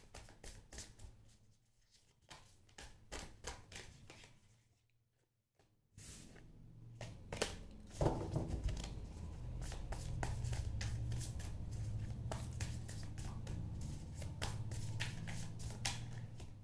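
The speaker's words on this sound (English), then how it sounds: "One more shuffle, please." Tarot cards are shuffled by hand in a series of soft, rapid riffling and patting bursts, quiet at first with a brief pause, then louder and denser, steady close-up rustling.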